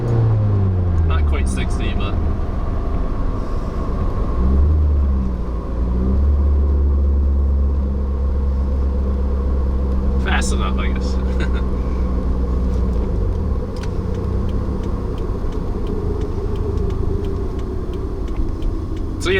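A 2015 Subaru WRX launches into a hard acceleration pull, its steady engine rumble building loudly from inside the cabin while a person talks over it.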